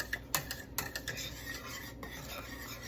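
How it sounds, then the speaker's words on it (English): A spoon scrapes and rasps around a pot of creamy shrimp, corn and spinach grits cooking on medium heat, several quick close stirring strokes and then a softer steady rub. "We're going to lower the heat to medium and cook these, stirring very frequently"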